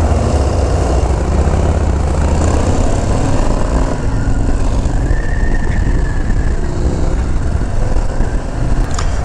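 A Harley-Davidson Low Rider ST motorcycle engine drones steadily while riding through an empty city, loud and close with wind rush, a continuous deep rumble that never lets up.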